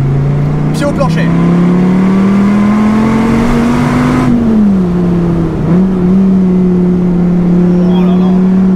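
An SRT Viper GTS engine pulls hard at full throttle in second gear, a loud, rising drone heard from inside the car with the window slightly open, with a brief dip at a gear change before the pitch climbs again.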